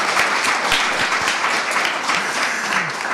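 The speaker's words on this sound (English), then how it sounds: "can I firstly ask the audience to give a massive applause to our panelists?" Audience applause at the end of a STEM panel discussion, a full, steady round of clapping from the crowd throughout.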